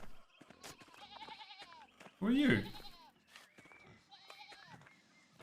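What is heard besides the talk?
sheep bleating in the video game Pentiment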